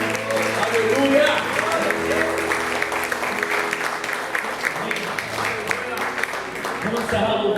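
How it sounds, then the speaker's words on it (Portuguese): Sustained applause from a church congregation at a Sunday thanksgiving service, a dense steady wash of clapping across the whole stretch, with a voice speaking over it. "Aplauda ao Senhor."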